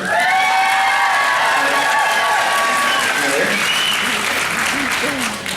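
A large crowd at a horse-training event in British Columbia cheers, whoops and hollers loudly with clapping, a dense wall of voices close by.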